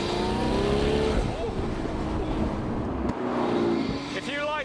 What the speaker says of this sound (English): If you like the sound of turbocharged cars, you will absolutely love this.